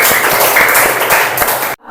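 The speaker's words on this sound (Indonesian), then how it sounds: "Tepuk tangan anak-anak." Children in a madrasah classroom clap together in a brisk, loud, rhythmic burst, then stop abruptly, leaving near silence.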